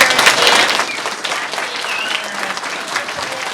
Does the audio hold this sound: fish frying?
no